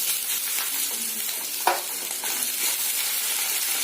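Sliced onions fry in hot oil in a pan for a crisp biryani topping, giving a steady, close, broadband sizzle with a single louder crackle partway through; no voices.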